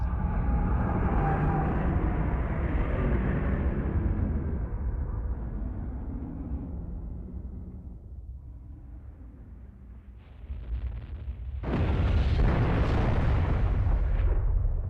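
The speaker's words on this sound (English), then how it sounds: "at least that explosion was more believable" Huge explosion in the Ace Combat Zero flight game: a long, loud rumbling blast that slowly decays, followed a few seconds later by a second sharp, bright burst of roaring noise.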